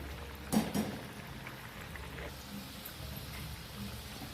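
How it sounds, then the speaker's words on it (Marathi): Vadas frying in hot oil in a home kitchen, a soft, steady crackle and bubble with a couple of brief louder splashes near the start as the fritters are turned. "आता आपण पलटी करून घेऊया हे वडे एक साईडने छान तळले गेलेत"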